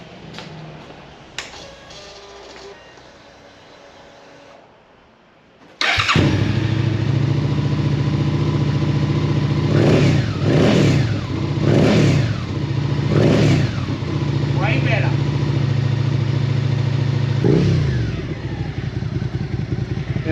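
Suzuki SV650X motorcycle with an Akrapovic exhaust, baffle removed, cranks to life after a quiet stretch and settles into a loud, deep idle, broken by a series of sharp throttle blips and revs close by.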